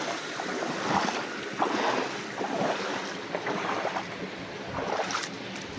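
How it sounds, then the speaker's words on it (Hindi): Canal water flows across farm fields in a steady rushing wash, mixed with gusty wind buffeting the microphone and occasional splashes, at moderate level outdoors. "ये आ रहा है जी नहरी पानी"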